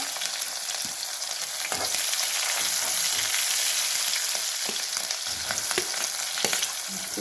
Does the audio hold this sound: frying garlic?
yes